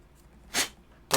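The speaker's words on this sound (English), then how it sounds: "So we're gonna take the sanding block to that and just kind of shore that up here." A sanding block is rubbed over an overhanging edge to smooth it, heard as two short, close, rasping strokes separated by a brief pause.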